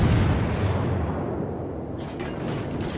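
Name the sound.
destroyer V 25 guns firing in World of Warships video game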